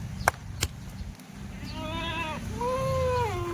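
Goats on a farm bleating, two drawn-out wavering calls near the end, preceded by a couple of sharp knocks, with low rumbling background noise, no clear speech.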